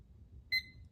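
A digital timer or watch gives one short, clear electronic beep as it is started for a one-minute pulse count, over a low background hum.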